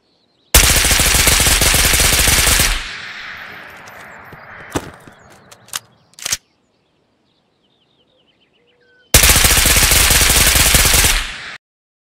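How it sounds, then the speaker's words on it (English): Fully automatic gunfire from a rifle with a 30-round magazine and no grip in the Ghost of Tabor video game: two loud sustained bursts of rapid shots, separated by a quieter stretch with scattered single cracks and a lingering tail. "We shall begin our test firing fully automatic."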